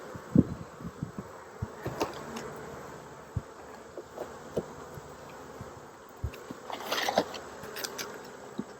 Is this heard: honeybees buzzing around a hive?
yes